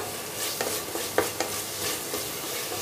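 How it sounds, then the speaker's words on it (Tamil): Mint leaves being sautéed for an idiyappam kurma give a soft, steady sizzle, broken by a few spoon scrapes and light taps against the pan, close and fairly quiet, with no talking. "இதையும் போட்டு நல்லா ஒரு வதக்க வதக்கிக்கலாம்."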